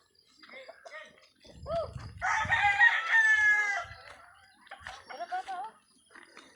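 A rooster crows loudly and close by, with clucking chickens around it and a person talking in the background.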